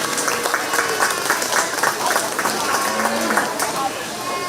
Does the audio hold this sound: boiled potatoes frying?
no